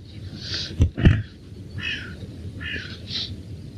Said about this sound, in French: Écoutez ces oiseaux, écoutez.